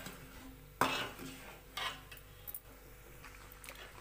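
A utensil stirs thickening semolina rava kesari in a pan, giving a sharp metallic knock followed by a few softer scrapes and taps, quiet and close.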